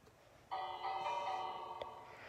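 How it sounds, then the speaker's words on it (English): A bell in the Minecraft game rings once with a bright, sustained metallic tone that rings on and slowly fades, with no talking over it. "I'm just gonna put the bell on."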